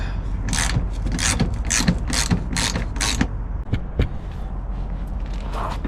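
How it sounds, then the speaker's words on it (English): A ratchet tightening a bolt back up on a 2015 Toyota 4Runner during an oil change, a rapid run of about seven loud close clicking strokes followed by a few slower, softer clicks. "So I'm gonna tighten that back up."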